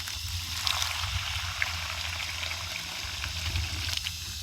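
Water runs steadily from a garden hose into a dogs' water dish outdoors, a soft continuous splashing and trickle heard fairly close with low background rumble and no talk.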